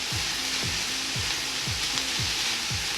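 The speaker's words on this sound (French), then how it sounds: "Faites bien revenir le poireau" Leeks sautéing in a pan over medium-high heat for leek and potato soup, a constant close sizzle punctuated by a regular rhythm of spoon scrapes as they are stirred.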